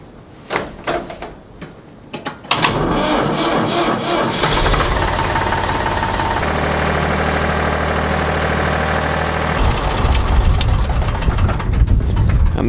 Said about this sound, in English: We're gonna see if this tractor is gonna start.